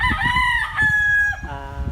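A rooster crows loudly and close by, a long drawn-out call that rises and then trails off, with a second crow starting at the end.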